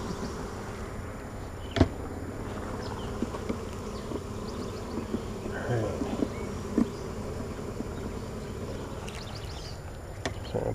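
Honey bees swarm over frames during a hive inspection, a continuous close buzzing with occasional louder passes and a few sharp knocks of handling equipment.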